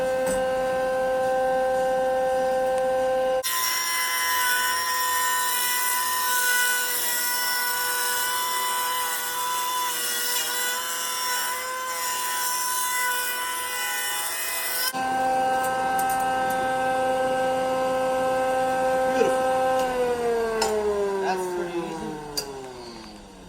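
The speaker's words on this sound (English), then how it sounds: "So we're gonna use the joiner here to give it one straight edge." A wood jointer whines steadily with a bright motor tone while a board is fed across it to true the edge, a harsh cutting rasp rising in the middle, then the machine spins down as the pitch falls away.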